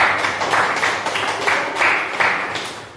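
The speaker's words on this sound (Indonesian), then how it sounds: "Silakan tepuk tangan anak." A classroom of students clapping their hands together, a steady mass of applause running throughout with rhythmic surges of claps, fairly close and lively.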